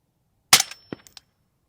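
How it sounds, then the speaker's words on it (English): An RD MK1 MOD1 DMR rifle fires one sharp, loud shot at a range, followed by a few quick metallic clinks and a short echo. "You want to shoot 6, Marco?"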